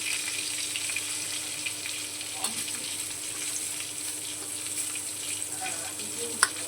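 Turmeric powder hits hot oil for a chana masala, a close, steady sizzle with light stirring scrapes and a sharp clack near the end, no speech.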